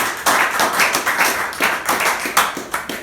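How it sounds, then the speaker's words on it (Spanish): Worshippers in a church clap their hands in unison, a loud, quick, even beat of claps repeating steadily throughout with no talking. "Vamos a aplaudir a Jesús porque Él es perfecto."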